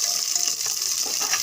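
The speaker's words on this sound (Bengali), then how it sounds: "লাল লাল করে ভেজে নেব।" Potatoes fry in hot oil with already-fried garlic, giving a steady, bright sizzling hiss with faint bubbling, close and even throughout, no talk.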